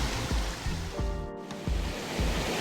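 A creek crossing on a hiking trail in the Cataloochee area has rushing, splashing water that rises and falls in uneven surges, with a few soft thumps mixed in, and no one talks.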